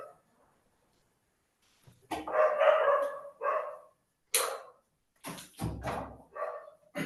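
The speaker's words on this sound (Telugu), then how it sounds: "కొంచెం కుక్కలు అరుస్తున్నట్టున్నాయి" Dogs bark nearby in several short, loud bursts with silent gaps between them, mostly heard alone.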